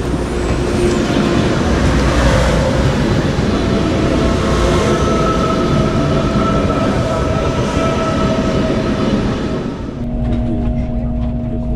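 A delayed ICE T express train pulls into Linz station with a loud, steady rumble and rolling hiss of wheels on rails, a faint tonal whine riding on top and the noise easing slightly near the end; no voices.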